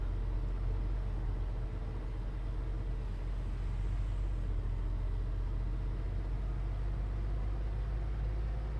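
A farm vehicle in Farming Simulator 19 drives along a road by itself, giving a steady, continuous engine rumble at an even level with no talking over it.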